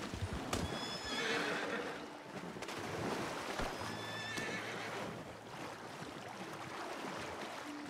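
Horse sounds from the Red Dead Redemption II video game, with neighing and whinnying over steady hoof clip-clop, set near a water hole. The sounds are moderately loud with ambient outdoor wind, and no one speaks.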